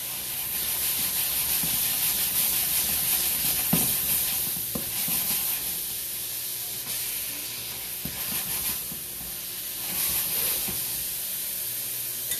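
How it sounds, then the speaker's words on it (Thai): Minced pork stir-fried in a pan for a Thai glass noodle salad, a steady broadband sizzle and hiss with a few spatula scrapes and clinks, close and continuous with no talking. "ตอนนี้ผัดหมูสับนะคะ"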